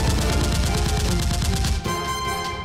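Rapid burst of gunfire-like shots from Nerf guns in a mock battle, a fast even stream of heavy pops for nearly two seconds, then a thinner ringing tail.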